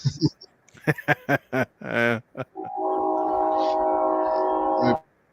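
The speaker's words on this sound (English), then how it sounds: "I got a train coming." A train horn blasts steadily for about two and a half seconds, loud and fairly near. Casual talk and a chuckle come just before it, during a relaxed evening chat.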